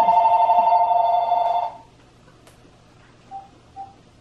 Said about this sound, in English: I put the phone near me this time so that I could hang up on the people promptly so you guys didn't have to hear ringing